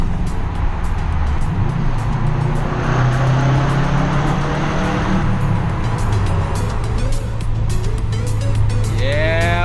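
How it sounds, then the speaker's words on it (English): A 2009 Subaru WRX engine pulling after a downshift with the windows partly down, a loud, steady drone whose pitch rises and falls with the revs, then a rising whine near the end. "Hit a little downshift action."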